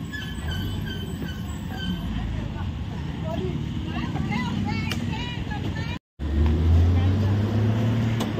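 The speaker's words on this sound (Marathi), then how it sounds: "आमची आता गाडी आली असेल बाहेर" A car idles outside with a steady low engine rumble, while voices talk over it. The noise briefly cuts out, then returns louder and fuller.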